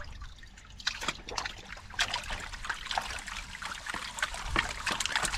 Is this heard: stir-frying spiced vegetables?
no